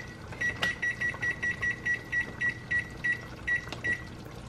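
A kitchen timer beeps in quick succession while being set, about fifteen short evenly spaced electronic bleeps over a quiet kitchen background.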